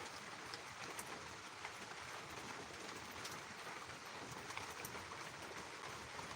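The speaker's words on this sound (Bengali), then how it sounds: "দেখেন অঝর বৃষ্টি হতেছে" Heavy, unrelenting rain pouring outdoors, a dense even hiss of drops with no pauses and no voices.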